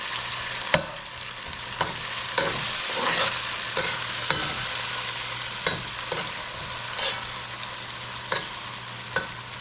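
Okra fries in hot oil with a strong, close crackling sizzle that runs throughout, broken by repeated sharp scrapes and taps of a utensil stirring the pan.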